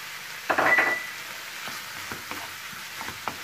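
Kofta meatballs with olives cook in a pan; a sharp burst of sizzling comes first, then softer, scattered crackles and hisses continue quietly underneath.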